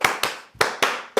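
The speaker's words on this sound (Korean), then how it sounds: "반대로 했네. 내가 박수를 먼저 쳤네." Sharp hand claps ring out in an uneven sequence of five distinct, fairly loud, close-up strikes, each one decaying quickly.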